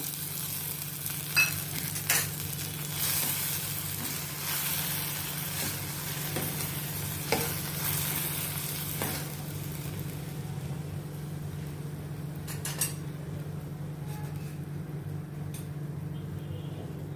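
Crushed tomato added to browned onions in a pan for dal palak, a steady low sizzle beneath a constant hum, with a few clicks and scraping stirs early on that fade as the frying settles.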